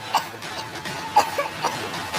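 A girl coughs in a horror-story narration, with a few short, sharp coughs spread irregularly over a couple of seconds against a faint hiss.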